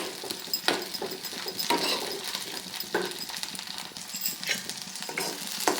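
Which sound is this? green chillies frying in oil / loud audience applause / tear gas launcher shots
green chillies frying in oil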